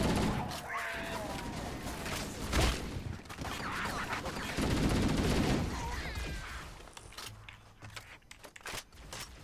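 Gunfire in the video game Halo: Combat Evolved, rapid bursts of shots and impacts amid dense game noise, continuous and fairly loud throughout, easing toward the end.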